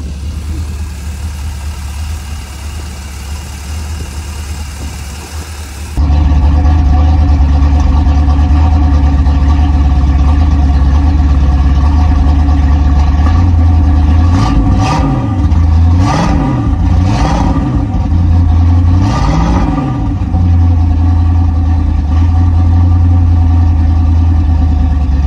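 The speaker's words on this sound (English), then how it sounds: "To sort out the idle at the moment. It's quite high, but I'm guessing that's because it's cold" A 1967 Pontiac Firebird's 400 cubic inch (6.6 L) V8, converted to Holley Sniper EFI, idles high while cold with a loud, steady, deep rumble, broken midway by a few short throttle blips before settling again.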